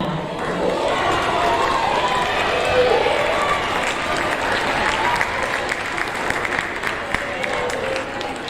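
Applause from the audience at a sixth grade awards ceremony, steady crowd clapping that fills the room continuously at fairly loud level, with some voices mixed in.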